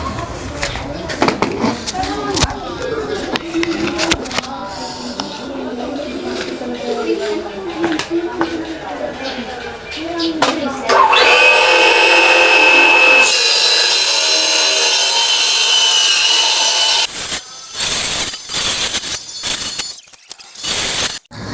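Power tool trimming a PCB board to size, starting with scraping and rubbing handling noises, then a loud steady grinding whine for several seconds before cutting off, followed by some clatter.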